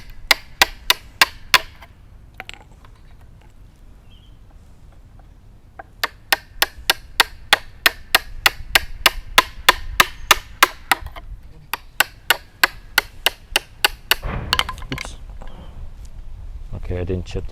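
A mallet drives a chisel into a wooden stool joint to chop off its corners, landing rapid, evenly spaced sharp knocks in several long runs, with someone talking between them.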